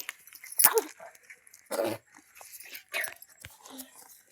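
A dog gives a few sharp, close barks and growling yelps at a cat, in short separated bursts with quiet gaps between them.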